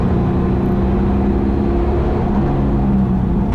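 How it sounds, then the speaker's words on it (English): An NZV8 race car revs out down the back straight at Bruce McLaren Motorsport Park, its V8 a loud, deep, steady roar holding high revs throughout with no voices. "onto the accelerator and down the back straight, revving it out"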